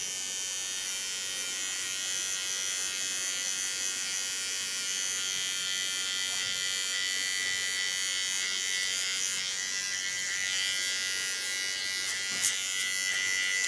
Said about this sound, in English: Take my small clipper of T.K.S.